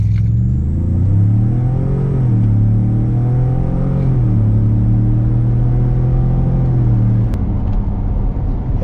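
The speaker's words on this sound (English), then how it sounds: "we're going to stand on the brake, build up the power, and then launch it" A tuned truck in sport mode is held on the brake to build power and then launched, producing a loud, close, sustained engine drone whose pitch wavers and climbs before settling.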